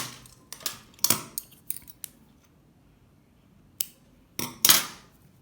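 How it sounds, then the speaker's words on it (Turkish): Scissors snip through crochet yarn during needle lace work, a handful of sharp metallic cuts in quick clusters with quiet gaps between, close and fairly loud with no talking. "boyamı şuradan kesiyorum"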